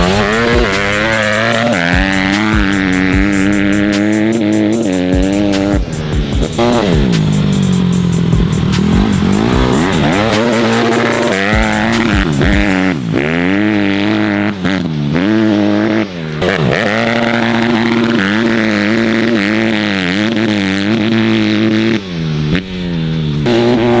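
A dirt bike engine revs hard and continuously while riding, its pitch climbing and dropping through the gears, loud and close, with no talk over it.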